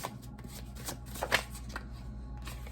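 Tarot cards being shuffled by hand during a love reading, several quick papery riffles and taps close by, with no talking.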